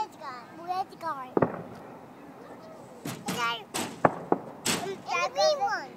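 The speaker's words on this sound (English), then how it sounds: "They're making fireworks?" Fireworks go off in several sharp bangs and pops, scattered across the clip, with people talking excitedly between the bursts.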